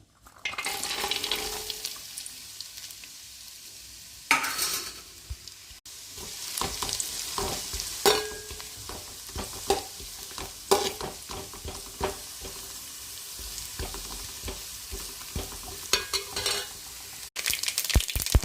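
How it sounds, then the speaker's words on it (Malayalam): Finely chopped ginger sizzling in oil in a pan for a lemon pickle, a continuous crackling fry with occasional stirring scrapes and clinks, close and moderately loud. "പൊടിയായിട്ട് അരിഞ്ഞ് വെച്ചിരിക്കുന്ന ഇഞ്ചി ഒന്ന് മൂപ്പിച്ചെടുക്കാനാണ്"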